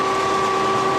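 A drain cleaning machine motor runs with a steady mechanical hum and two constant tonal whines, continuous at an even level with no breaks.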